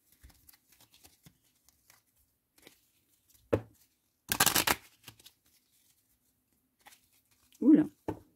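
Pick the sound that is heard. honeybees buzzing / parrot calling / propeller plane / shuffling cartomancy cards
shuffling cartomancy cards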